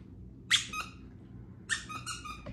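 A dog's rubber squeaky toy gives two separate bursts of shrill squeaks, each a quick run of several squeals, close and clear against a quiet room.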